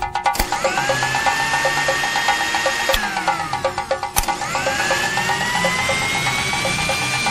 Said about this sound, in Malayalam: അടുക്കളയിൽ മിക്സി ഓണായി